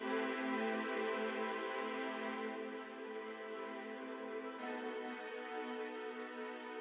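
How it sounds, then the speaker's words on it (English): Spitfire Chamber Strings on the long sustain preset, soaked in Valhalla Vintage Verb reverb: a soft, lush string chord held steadily, shifting to a new voicing partway through, with no talking. "So the next instrument I have is a Spitfire Chamber Strings"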